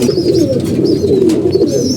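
Pigeons cooing steadily and close by while feeding, a continuous low throaty burble of several birds with occasional brief chirps layered over it.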